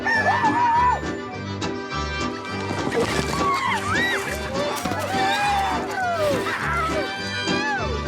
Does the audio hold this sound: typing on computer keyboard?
no